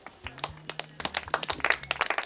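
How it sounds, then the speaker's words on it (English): A small audience at a comedy show claps in sharp, scattered claps, sparse at first and then denser, fairly close and moderately quiet. "I'll hold now for a 5-minute applause break."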